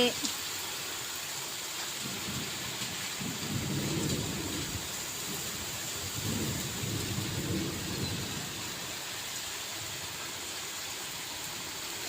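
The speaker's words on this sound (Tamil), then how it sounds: "பெரிய மழையா பெய்யுது" Heavy rain pours in a steady hiss while deep, rolling thunder rumbles twice through the middle, distant but strong, in an evening downpour in Attur.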